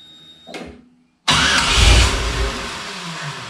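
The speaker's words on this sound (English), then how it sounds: "We've got it cranking over and firing, but it doesn't keep running." A Chevy LS 4.8L engine in a 1955 Chevy hot rod cranks briefly, then fires with a loud, sudden roar that holds for a couple of seconds and gradually fades as it dies.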